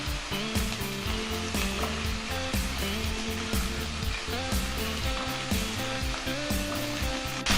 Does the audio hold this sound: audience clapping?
no